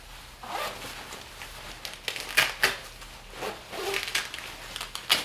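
Pit zips on an Airblaster Beast 2L snowboard jacket being unzipped, a series of short rasping zipper pulls in irregular bursts, close and crisp against a quiet background.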